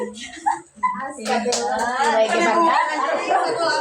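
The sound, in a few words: applause, hands clapping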